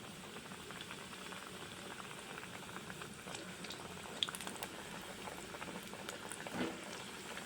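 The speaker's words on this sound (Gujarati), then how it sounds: "આપણે તળવાના છે સમોસાને." Samosas deep-frying in hot oil over a medium flame, a dense continuous bubbling crackle that holds steady throughout, with a faint clink near the end.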